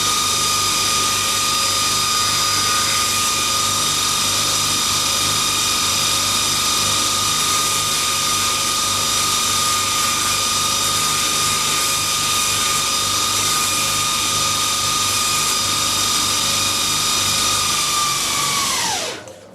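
A power tool whines steadily while smoothing the edges of kydex sheet, a loud continuous high-pitched hum held for nearly twenty seconds before spinning down abruptly at the end.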